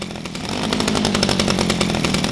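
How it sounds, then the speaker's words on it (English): A chainsaw engine roars up to speed, loud and close, its buzzing motor rhythm rising quickly and holding steady. "That's when the chainsaw fired up."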